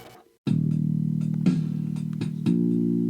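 Sustained electric piano chords play through the small built-in speakers of a Donner DEP-20, warm and slightly bassy, with a few new notes struck along the way and no talking.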